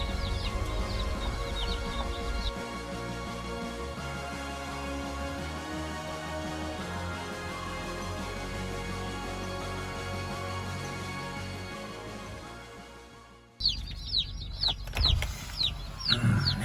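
Chickens cluck in a barn, with a steady droning hum filling most of the stretch before it drops away and several close, distinct clucks come through near the end.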